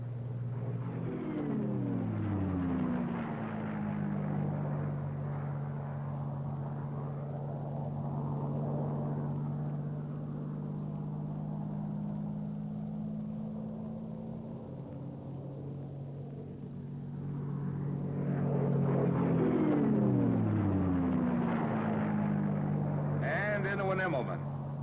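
A P-51 Mustang's piston engine drones through an aerobatic loop, a loud steady rumble whose pitch sweeps down and back up as power changes, fading in the middle and swelling again near the end.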